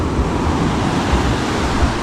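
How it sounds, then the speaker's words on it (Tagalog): Big ocean waves surge and crash on the coast in strong wind, a loud, dense, continuous roar with heavy wind buffeting the microphone. "Bigla na naman laki ang alon."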